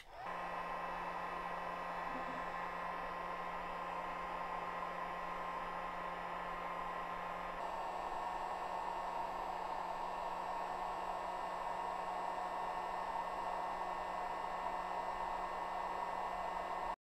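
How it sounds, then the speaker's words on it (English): A heat gun warms the metal heater block of a threaded-heatbreak 3D printer hotend on an Artillery Sidewinder X1, giving a steady, loud blowing roar with a low motor hum that runs unbroken throughout, with no speech. "I'm going to take a heat gun here, and I am just going to warm up the block"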